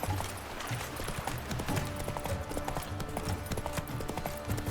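Horse hooves clip-clop in a quick galloping rhythm in The Witcher 3 video game, close and moderately loud, with a brief whinny.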